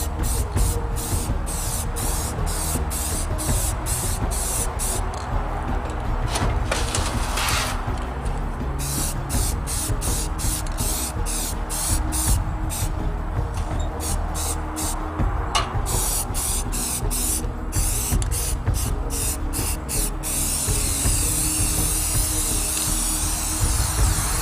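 Rapid bursts of spray paint hiss over a wood stove heater during a heavier second coat, the short sprays repeating in quick rhythmic pulses with brief pauses, loud and close.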